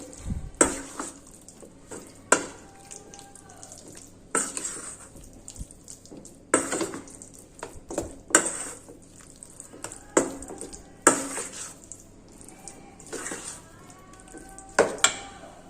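Sautéed vegetables are stirred into semolina appam batter in a bowl, with a spoon scraping and clacking in repeated sharp bursts, roughly every second or two, between quiet pauses.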